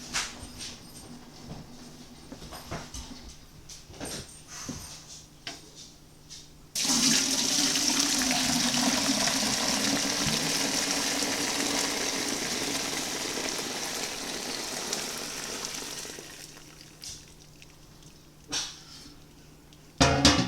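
Chicken broth from home canning of whole chickens is poured through a strainer, a steady splashing stream of liquid lasting about ten seconds between quieter handling clatter.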